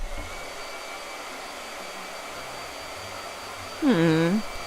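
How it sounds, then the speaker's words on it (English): A hair dryer on its hot setting blows with a steady whooshing hum throughout, then a short voiced sound rises over it near the end. "this is the hot setting on the hairdryer"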